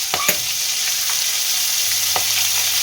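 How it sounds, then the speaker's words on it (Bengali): Green chillies and a spice tempering fry in hot oil for fish-oil curry, making a loud, constant sizzle with a couple of sharp clicks of stirring near the start and middle. "ফোড়নটা একটু ভাজা হয়ে গেছে"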